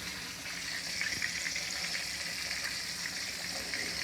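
Chicken fried steak fries in a pan of hot oil, giving a steady, close, hissing sizzle that stays even throughout with faint crackles and no talking.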